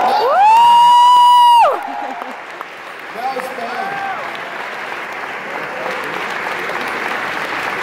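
A concert crowd at a Video Games Live show in Vienna claps and cheers, with a loud sustained whoop that fades into a steady wash of applause and scattered shouts.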